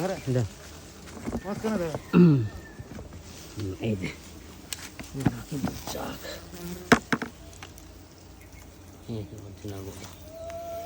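Honeybees from a natural wild hive in Satkhira buzz around during a honey harvest, a wavering drone rising and falling close by, with people talking throughout.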